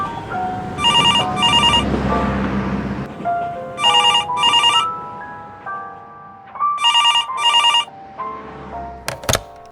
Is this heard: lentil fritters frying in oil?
no